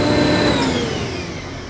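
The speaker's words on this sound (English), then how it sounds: "Shut this air compressor off here." An air compressor winds down after being switched off, its loud motor hum and hiss fading steadily over under two seconds.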